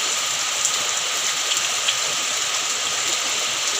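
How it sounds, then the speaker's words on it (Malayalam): Heavy rain pours steadily and fairly loud on surfaces nearby, a dense constant hiss with a few brief drop spatters, heard while shrimp coconut chutney is being ground in a kitchen; no voices. "ഞാനിവിടെ അരച്ചുകൊണ്ടിരിക്കുമ്പോൾ ഭയങ്കര മഴ പെയ്യുന്നുണ്ട്,"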